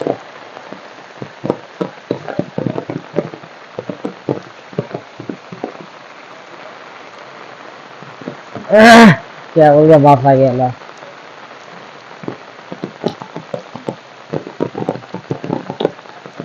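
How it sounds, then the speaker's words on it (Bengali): Heavy rain falls steadily over a village, a continuous patter with scattered drops, interrupted briefly by louder bursts of other noise and a short spoken phrase. "প্রচুর পরিমাণ বৃষ্টি হইতেছে।"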